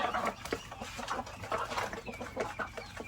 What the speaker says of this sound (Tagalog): Oh, yun, may sisiw na. May sisiw na to.